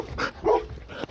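Dogs kept near Fiat Doblo vans give a brief bark and whine, with a couple of short yelps close by over about a second.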